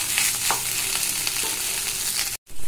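Boiled potato is mashed and stirred into a frying samosa filling in a pan, with a continuous close sizzle and soft scraping strokes that end abruptly.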